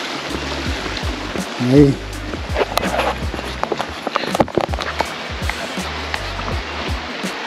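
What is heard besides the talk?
river flowing, crossing a river at Kamikochi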